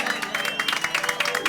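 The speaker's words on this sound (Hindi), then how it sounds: "एक बार जोरदार तालियां हो जाए" A gathering in a housing society claps for a teacher, with a moderate patter of applause mixed with crowd murmur and a voice or two underneath.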